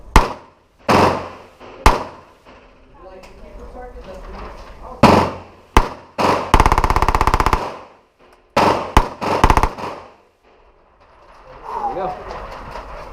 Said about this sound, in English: Very smooth, no recoil, very easy gun to shoot.